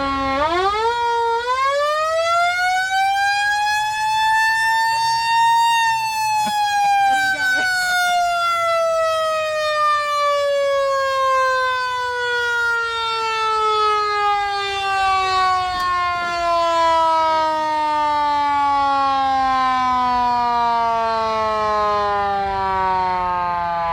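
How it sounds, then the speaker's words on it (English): A siren sounds at a Chevy-only car show in Glendale, Arizona: a loud mechanical wail that climbs quickly to a peak, then slowly winds down in pitch over about twenty seconds, with faint crowd noise beneath. "Now there's a siren here."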